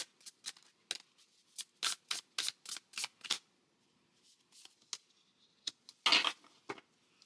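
Tarot cards are shuffled in a rapid run of crisp, close riffles and slaps. After a quiet pause, a few single card pulls and one last louder shuffle follow.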